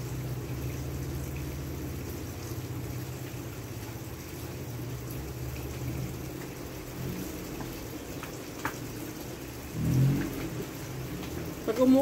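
Steady rain falling outside, a soft continuous hiss of drops with a low rumble underneath and a brief louder thump near the end.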